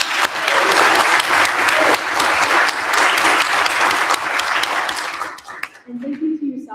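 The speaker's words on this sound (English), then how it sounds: "Please give me one more round of applause for Brian." Loud, sustained applause from a crowd at an evening community speaker series, dense and steady for several seconds before tapering off abruptly, followed by faint murmuring.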